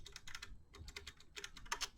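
Typing on a Razer Ornata Chroma keyboard, a moderately clicky board, heard as quick bursts of close keystrokes in irregular clusters with short pauses between them.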